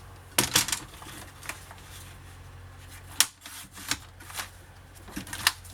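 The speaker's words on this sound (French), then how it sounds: "Je vais couper le rectangle." Scissors or a paper trimmer cutting a paper rectangle for a Christmas scrapbooking album, heard as a few short, close, crisp snips and rustles spread over several seconds in a quiet room.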